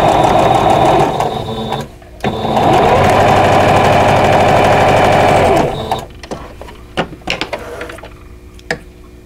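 A sewing machine runs loud and close as quilt block pieces are stitched, with a steady mechanical whir in two long bursts, then stops and gives way to scattered handling clicks and knocks.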